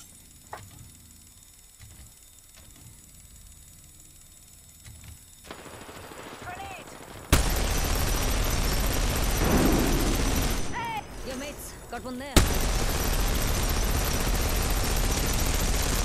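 Gunfire in Apex Legends, starting quiet under talk, then jumping to loud, sustained, rapid shooting that continues with a brief dip before surging again, with voices talking over it.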